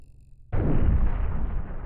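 A missile strikes a ship's energy shield in the space game Cosmoteer, a sudden loud explosive burst after a brief quiet lead-in, followed by a sustained rumbling roar that slowly fades.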